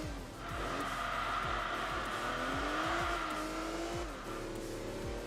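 Race car engine in Enthusia Professional Racing, a Group B rally car with rearward-mounted engine, droning steadily with repeated gear-shift pitch sweeps and sustained tire squeal throughout, loud and continuous with no talking.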